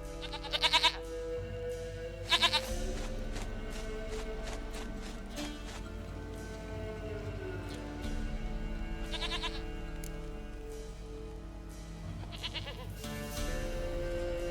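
A goat bleating in the video game The Witcher 3: Wild Hunt, a few short nasal bleats in separate bursts over continuous outdoor ambience and soft background music.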